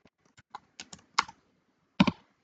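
A computer keyboard is typed on in a quiet room: a handful of light, uneven keystrokes, then a short pause and one firmer, louder press of the enter key.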